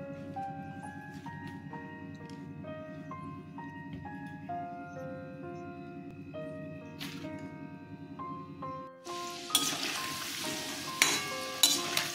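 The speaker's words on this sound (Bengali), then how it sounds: "লাল লাল করে ভাজতে হবে। লাল লাল করে ভাজছি" Khasta gaja sweets deep-frying in oil, a broad sizzle that rises near the end beneath a steady, melodic chiming tune playing throughout.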